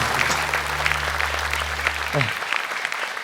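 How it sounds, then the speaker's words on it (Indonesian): Applause from a studio audience at a televised Quran memorization competition fills the room, steady clapping with a low hum underneath that cuts off partway, the clapping carrying on to the end. "Tepuk tangan untuk para dewan juri."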